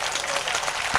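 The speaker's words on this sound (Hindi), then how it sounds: "ताली बजाइए" Audience applause at a Hindi poetry and satire performance, a brief dense burst of clapping from a crowd, close and steady.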